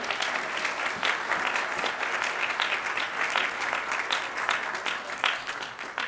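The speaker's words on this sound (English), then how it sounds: "Let's give J.R. a round of applause." A church congregation at a Baptist service claps steadily in a sustained round of applause, dense and even, with no talk over it.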